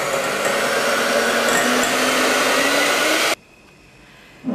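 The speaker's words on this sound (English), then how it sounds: "Now we've whisked up our egg whites like so, nice and stiff" An electric whisk beats egg whites to stiff peaks, a loud steady whirring drone that runs unbroken for several seconds before cutting off abruptly into near silence.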